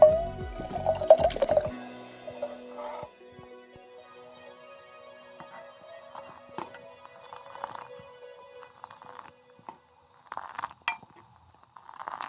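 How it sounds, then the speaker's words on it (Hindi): Water pours into Kashmiri pink tea being whisked in a pot, a short splashing rush at first, followed by scattered drips and small clinks of utensils. "अब इसमें हम दूसरी मरतबा फिर पानी ऐड करने लगे।"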